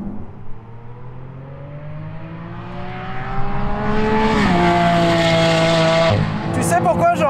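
A Lamborghini Aventador SV engine revs and rises through the gears with strong harmonic tones and an audible gear change, loud and close, with tire squeal near the end.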